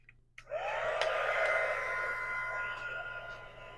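A heat tool switching on with a click and blowing steadily to dry a paper craft journal pocket, a close continuous whooshing whine lasting several seconds.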